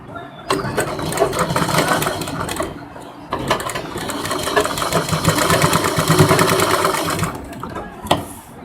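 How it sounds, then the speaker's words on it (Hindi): Sewing machine stitching a seam on a princess-cut lehenga blouse, a close rapid mechanical whir in two long runs with a brief pause between, ending with a soft clack. "यहाँ पर इसी के बराबर एक सिलाई लगाएंगे।"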